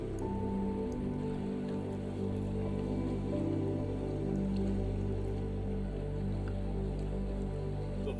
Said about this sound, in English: with rain falling like it is